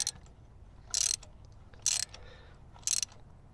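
A ratchet tightens a new spark plug in a project car engine, giving three short bursts of rapid clicking separated by pauses, close and crisp over a quiet background.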